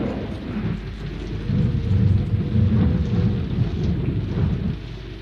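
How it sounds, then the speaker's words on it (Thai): Steady heavy rain with low rumbling, thunderstorm-like noise, loud and continuous throughout with no voices. "ฝนตกแล้ว"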